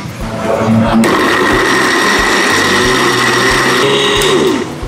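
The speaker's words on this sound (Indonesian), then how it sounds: "Lalu kita blender dengan air" A kitchen blender whirs loudly while blending spices with water, its motor starting abruptly and running at a steady high whine with rattling chop for several seconds before cutting off.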